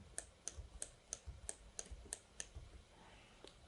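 Computer keyboard keys are pressed again and again while editing in Adobe Premiere Pro 2020, giving a quick, even run of about ten light clicks. The clicks are quiet and close, with a soft pause near the end.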